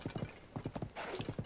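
Rhythmic horse hooves clip-clopping in Zelda: Tears of the Kingdom, a steady galloping pattern of paired thuds at close range, with a brief whinny-like burst midway and no talk.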